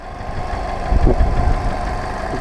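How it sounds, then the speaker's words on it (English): A 2005 Ford Focus estate with a clean engine bay idles steadily at close range, a low even rumble with a slight knocking texture and brief louder swells near the middle. "The engine does not appear to be running rough."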